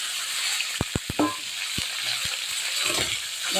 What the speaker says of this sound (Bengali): এবার আমি সবজি ঢেলে দেবো। আলু ফুলকপি একসঙ্গে দিয়ে দেবো ভেজে রাখা।